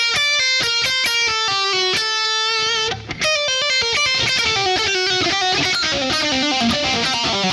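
A distorted electric guitar plays a metal-style lick, fast picked notes running into hammer-ons and a sweep. It sounds loud and dense with no talking over it, and a brief gap falls near the middle.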